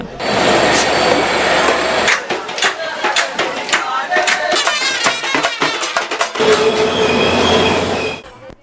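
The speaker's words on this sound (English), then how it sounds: "UNP supporters from Galle arrived in Colombo by train." A train pulls into Colombo carrying political party supporters from Galle, loud and close, with rhythmic clacking wheels and rail noise throughout and a brief low rumble early on, with no voices.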